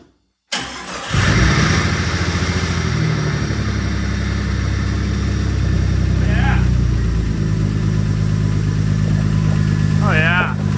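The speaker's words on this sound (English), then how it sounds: "let's see if we can get it to start" Jeep XJ with a swapped 4.0 engine cranks briefly, then catches and settles into a loud, steady idle close by, with brief voices faintly over it.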